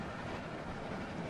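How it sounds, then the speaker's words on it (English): Rolling train in The Walking Dead video game, a steady, dense rumble of wheels on rails with a faint clickety-clack that runs unbroken throughout, fairly quiet and with no voices over it. "Stop the train, man."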